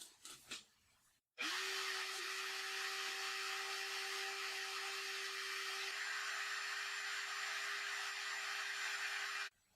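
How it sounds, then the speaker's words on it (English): A vacuum cleaner switches on with a thump and runs at a steady, loud whine, with a brief stretch of talk before it starts. "I'm going to turn on this vacuum and vacuuming this out"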